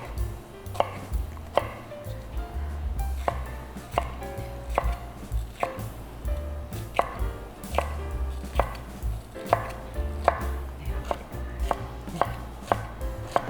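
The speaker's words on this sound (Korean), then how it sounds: "그 다음에 여기에 파프리카도 이렇게 해서 썰어 주시면 됩니다." A knife slices red paprika bell pepper on a cutting board for quick pickled onion jangajji, giving a steady run of crisp, evenly spaced chops close by, with no talking.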